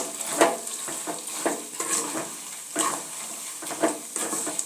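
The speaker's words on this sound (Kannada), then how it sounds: "ಚೆನ್ನಾಗಿ ಮಿಕ್ಸ್ ಮಾಡ್ಕೊಳ್ಳಿ." Avalakki (flattened rice) tossed with turmeric in a hot pan, a close run of crisp dry scraping stirs and rustles in an irregular rhythm, with a faint sizzle underneath and no talk.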